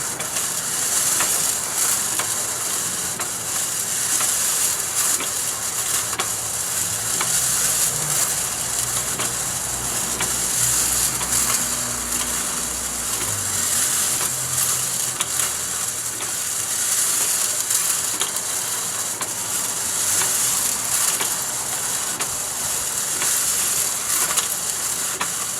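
A homemade coffee roaster tumbles beans with a steady, loud mechanical whir and hiss, continuous throughout with faint rattling of beans and no talking.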